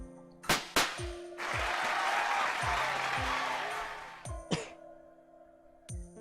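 Sustained video game crowd applause swells for several seconds, framed by sharp bright chimes and melodic game tones before and after.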